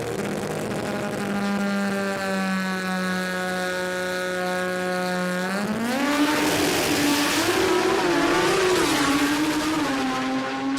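A drag racing car launches down the strip at a Brisbane street-car event, its engine droning steadily before erupting into a loud, roaring launch that warbles and surges as it pulls away.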